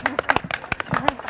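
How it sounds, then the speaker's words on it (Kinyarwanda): Audience applause at a Miss Mulenge 2022 beauty pageant comes as short bursts of clapping mixed with voices, brief and fairly close. "Umukomera amashyi."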